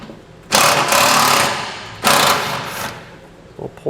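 Power tool whirring in two loud bursts, each about a second long, as it removes a 10mm ground-wire nut during a B&W 5th wheel hitch installation on a 2012 Ram 2500, followed by a faint clink.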